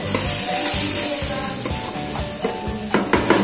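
Turmeric going into hot tempering oil for tamarind rasam, with a steady close sizzle and a few stirring clinks against the pan, and no voices.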